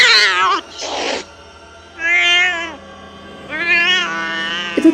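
A house cat lets out loud, drawn-out yowls in three separate bursts, with a brief breathy hiss early on, close and otherwise quiet between cries.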